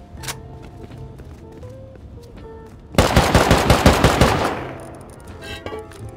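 Rapid automatic gunfire shooting out a tool cupboard in a survival video game, a loud sustained burst of shots in the middle with quieter game sounds before and after.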